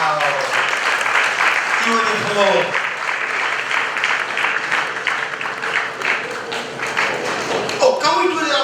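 Steady applause fills a graduation ceremony hall, the clapping dense and continuous while a voice speaks briefly over it and a few louder close claps stand out near the end.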